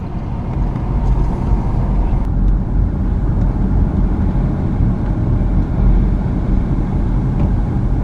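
A car rolls steadily through a residential neighborhood in Tubac, Arizona, a continuous low road and engine rumble heard from inside the cabin with no talk.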